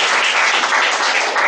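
A short, loud burst of audience applause for the MC at a speakers' forum meeting. The clapping is dense and even from start to finish, with no voices over it.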